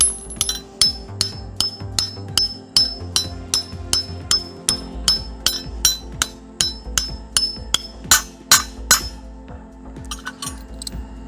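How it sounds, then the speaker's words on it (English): Sharp metallic hammer strikes drive a deck footing bracket into place, about two dozen ringing blows in a steady rhythm, close and loud with no talk. "so now I'm ready to hammer it in"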